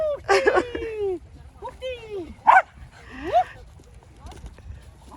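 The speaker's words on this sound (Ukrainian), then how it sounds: "Ну, от так от граються собаки." Dogs bark and yip in short playful bursts, with a few whiny yelps mixed in, fairly close against a quiet outdoor background.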